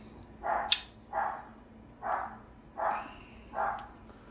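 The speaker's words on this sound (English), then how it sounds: "That's Rosie, my guard dog." A guard dog barking indoors: five evenly spaced, moderately loud barks over about four seconds, with no talk.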